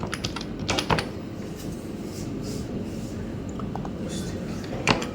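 Computer keyboard keys are typed while filling in an online form: a few sharp clicks come near the start, then a lone click at the end, all faint over quiet background noise.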